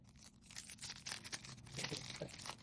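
Packaging of a Magic: The Gathering Avatar: The Last Airbender beginner box being opened up close, quiet bursts of plastic wrap tearing and crinkling in short irregular rustles.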